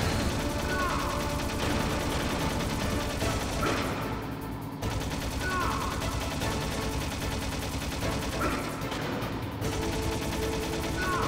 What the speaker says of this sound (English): He's getting shots off on me.